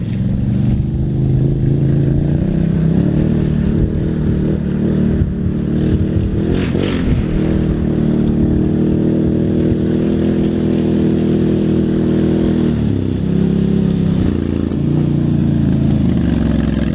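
A Can-Am Outlander XMR 1000R ATV engine revs hard and accelerates, a loud, continuous roar with shifting pitch that holds steady for the whole stretch, with no talk over it.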